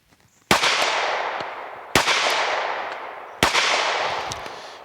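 Three loud, sharp pistol shots from a Springfield Hellcat RDP fitted with a HEX Wasp red dot, evenly spaced about one and a half seconds apart, each followed by a long decaying outdoor echo.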